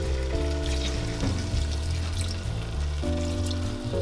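Water poured from a cup into a pot of lamb and potatoes for Ethiopian alicha, a steady close pouring and trickling over a faint sizzle from the cooking pot, no talk.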